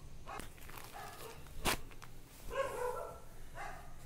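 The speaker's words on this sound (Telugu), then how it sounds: "డాగ్ సౌండ్ వస్తున్నాయి" A dog barks outdoors in the early morning, a few separate short barks at a moderate distance against quiet ambient background.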